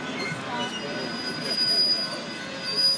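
A freight train slows to a stop, its wheels letting out a steady high metallic squeal over the low rumble of rolling railcars, fairly close and continuous throughout.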